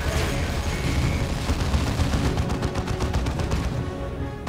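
Ork gunfire in the Warhammer 40k Dawn of War II video game, dense continuous rapid shots and bursts, loud and sustained with no talking.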